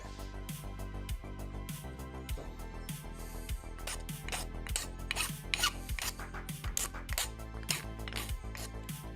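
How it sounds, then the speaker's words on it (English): Short rhythmic rasping strokes of a file deburring the brim edge of a 3D printed plastic part, repeated about a dozen times, close and fairly quiet. "Just cleaning up that little burr from the brim"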